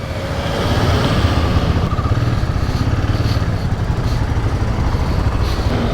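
A lineup of many motorcycles idling together on a trip from Delhi toward Jibhi, Himachal Pradesh, producing a dense, loud, continuous engine rumble with a steady throbbing texture throughout.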